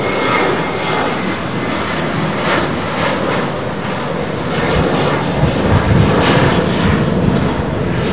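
A jet departs Heathrow Airport with a loud, close engine roar that rumbles on without a break and swells slightly toward the end.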